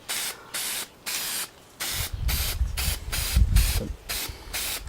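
Spray paint hissing from an aerosol can on a hot day while painting a sign, in four short even bursts followed by a longer continuous spray with wind rumble underneath, close and fairly loud.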